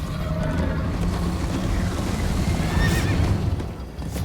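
A horse whinnies over steady hoofbeats and galloping noise in Minecraft: Story Mode, loud and continuous, with a high neigh rising near the end.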